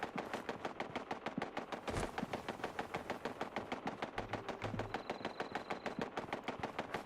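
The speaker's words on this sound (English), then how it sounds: "I hear turrets." Automated turrets in Fallout 76 pour out steady, rapid gunfire, a relentless evenly spaced string of shots at moderate distance with no voices over it.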